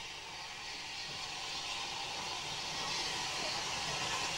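A 30-year-old steam locomotive runs round its train near Speke Junction, Liverpool, heard as a faint, steady hiss and low rumble at a distance, with no voices.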